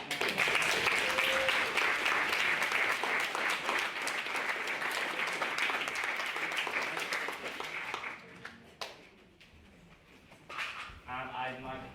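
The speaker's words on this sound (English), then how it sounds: "Can we get another round of applause for Grace?" Sustained applause from a debate audience for a maiden speaker, a dense, even wash of clapping lasting several seconds before tapering off, followed by a voice starting to speak.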